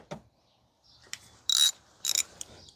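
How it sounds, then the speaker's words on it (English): A hand ratchet works a 10 mm nut on the 3.5 V6 engine of a 2015 Toyota Sienna AWD, giving a few close, sharp clicking bursts separated by short pauses. "we are going to continue to remove the bolt. This is a 10 millimeter nut."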